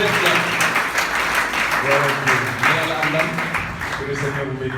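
A church congregation applauds with steady, dense clapping, while a voice speaks over it and the clapping continues underneath.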